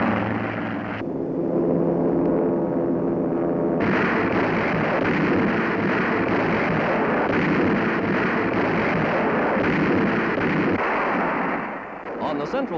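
American artillery cannonades Nazi forces in and around San Pietro, Italy, in a wartime barrage: dense, continuous rumbling booms and crackling blasts, loud and sustained, with a brief lull near the start and a fade at the end.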